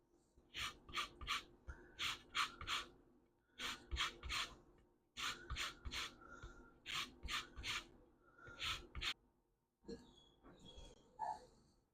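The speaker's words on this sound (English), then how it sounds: "We're also going to add the zest of 1 orange." An orange being zested on a grater for jammy thumbprint cookies: quick bursts of dry rasping strokes, three or four at a time, close and fairly loud, with short pauses between runs and a few light handling clicks near the end.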